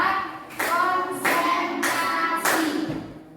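A class performs a counting clap routine in an Indonesian classroom: four sharp, loud group claps land in a steady rhythm about two-thirds of a second apart, each ringing briefly into the room before fading.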